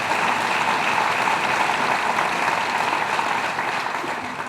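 An audience claps steadily and densely throughout at a public event in Syracuse announcing new high-tech jobs. The applause stays at an even, sustained level with no pauses.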